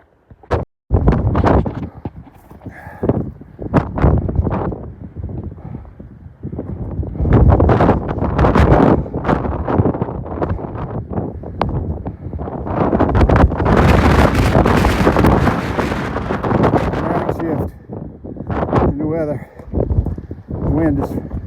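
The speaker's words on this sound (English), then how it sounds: "The wind is gusting, and I got to get off the ridge as fast as I can." Strong wind on a mountain ridge near Mount Webster and Mount Jackson buffets the microphone in loud, rumbling gusts that swell and ease, with some brief knocks and footstep-like thumps; no clear talk.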